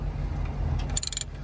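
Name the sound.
ratchet removing 10 mm bracket bolt on Toyota Camry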